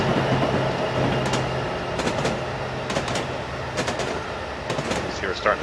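A freight train rolls through Cajon Pass in Train Simulator 2015 with a steady, moderate rumble. Periodic sharp clicks and clacks recur over the continuous drone.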